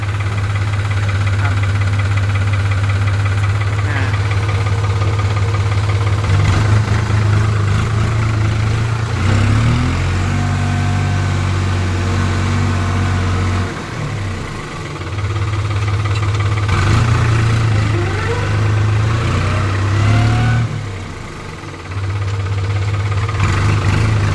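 A 55-horsepower New Holland diesel tractor engine idles steadily with a low knocking throb, close by, its pitch dipping briefly a couple of times.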